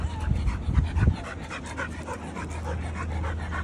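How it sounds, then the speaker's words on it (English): Dogs panting at an outdoor dog park in Miami, quick breathy pants up close with some low rumbling handling noise early on and steady background hum. "There are a lot of dogs, eh?"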